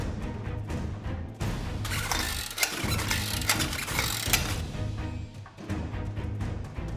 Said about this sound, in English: Now we are pressing out the old bushing